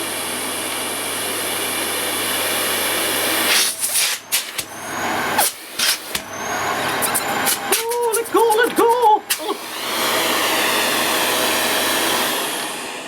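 An AEG Ultraone AU08870 vacuum cleaner runs on maximum suction with a loud, steady rushing whir. Its airflow is briefly interrupted by choppy bumps and a voice in the middle, then it settles back into a constant roar.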